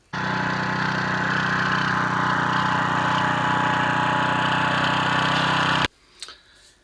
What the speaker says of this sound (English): I bust out the power auger